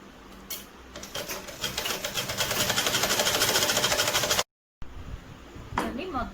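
Sewing machine stitching a cotton lining around the neck of a girl's boutique-style birthday frock, a steady fast mechanical run of about three and a half seconds, a brief silent gap, then short bursts of stitching.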